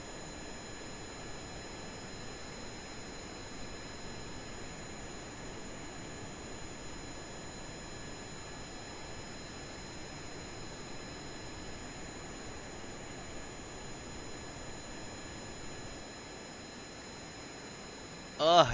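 A steady plane jet engine roars in the game Kerbal Space Program, an even, continuous drone with a thin hum for nearly twenty seconds before a short thump at the end.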